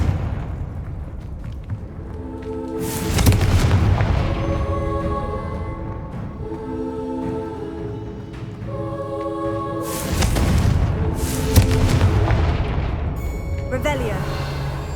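A Confringo blasting curse goes off in Hogwarts Legacy during a spider-nest fight, with two heavy booming blasts and rumbling impacts over game music and a voice casting spells.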